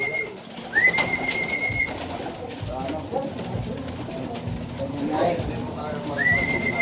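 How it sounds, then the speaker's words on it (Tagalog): Pet pigeons cooing and fluttering while being fed, a steady close murmur of coos with occasional wing flaps, under a voice talking and a recurring high electronic whistle tone. "kakain tayo kalapati sa mga alaga natin"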